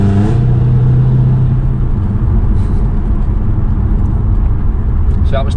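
A Mercedes C63 AMG engine runs loud and close, its steady rumble rising briefly in pitch as it revs to about 2,000 rpm, then settling into a constant drone.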